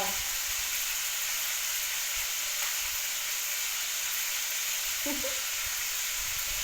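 Steak fries in a hot pan with a continuous, even sizzle and crackle, close and fairly loud, holding steady for several seconds without talk.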